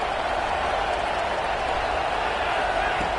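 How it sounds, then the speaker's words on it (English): A stadium crowd at a Georgia vs Houston college football game gives off a steady, loud roar of cheering and noise that holds at an even level throughout, with no distinct voices standing out. "Listen to the crowd energy here in the early going."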